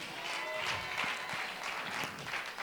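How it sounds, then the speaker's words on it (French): A church congregation at a live worship service bursts into sustained applause with scattered cheers, a steady dense wash of clapping that holds at an even level throughout. "Avec des cris de joie et des acclamations."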